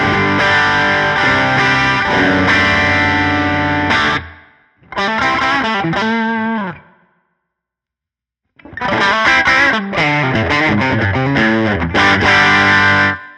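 Electric guitar played through a Tone City Double Durple pedal at a high-gain setting, loud distorted chords and riffs in two bursts separated by a short silence, then a longer closing phrase.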